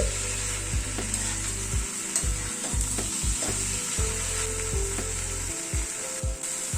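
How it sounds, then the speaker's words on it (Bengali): Capsicum and chicken stir-fried over a raised gas flame, a constant loud sizzle with a low hum and intermittent scraping strokes of a spatula against the pan. "এবার একটু গ্যাসের ফ্লেমটাকে বাড়িয়ে দিয়ে একটু নাড়াচাড়া করে নিচ্ছি"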